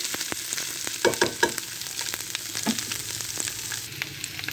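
Four chopped onions and garlic frying in oil, a steady close sizzle with a cluster of clattering stirs and scrapes near the start and quieter hissing after, no voices.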